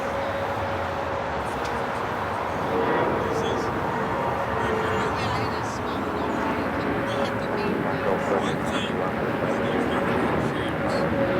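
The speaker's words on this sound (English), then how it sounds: "Dreamliner touching down 25 at left, 787-9 in Dreamliner" Boeing 787-9 Dreamliner touching down on runway 25 left at Los Angeles International, a steady broadband roar of engines and rushing air holding loud throughout, with a voice talking over it.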